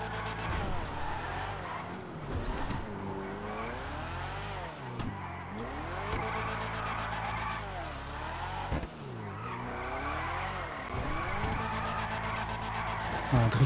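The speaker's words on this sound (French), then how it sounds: "Drift pas mal, franchement." An Annis ZR350 drifting in GTA, its engine revving in rising and falling sweeps while the tires squeal and skid continuously for over ten seconds, loud and close, with a voice briefly present in the mix.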